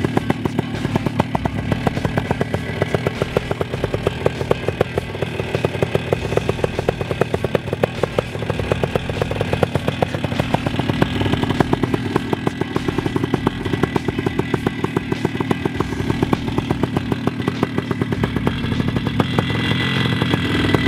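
A Vittorazi paramotor engine runs close and loud without pause, its fast buzzing two-stroke rattle holding steady as the throttle shifts slightly over twenty seconds.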